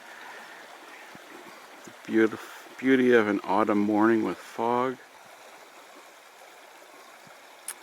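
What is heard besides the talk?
river water flowing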